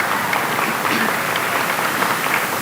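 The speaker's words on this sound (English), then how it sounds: "So just another round of applause" A school audience at a strings day event gives a round of applause, a steady dense wash of clapping that holds evenly from start to finish.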